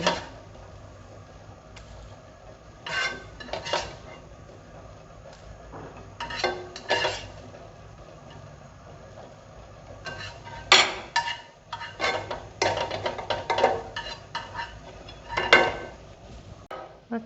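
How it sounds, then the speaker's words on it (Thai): Kitchen sounds while beaten egg goes into a pot of boiling soup for Thai clear egg soup: scattered clinks of a utensil against the pot and light clatter over a quiet background, no talking. "เดี๋ยวเราก็เอาไข่ที่เราเจียวเมื่อกี้นะคะ ใส่ลงไปในหม้อเลยนะคะ ในหม้อน้ำซุปนะคะ"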